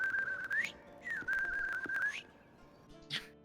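A person whistles an imitation of a thrush's warble: two long, steady whistled phrases that each end in a rising flourish, followed by a short, brighter chirp. The whistling is fairly close and clear over a quiet background.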